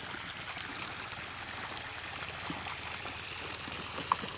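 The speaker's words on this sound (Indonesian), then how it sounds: "Terus ini kita siram" Water pours steadily onto ridge gourd plants in a garden bed, giving a continuous soft trickling and splashing wash, fairly faint and without talk.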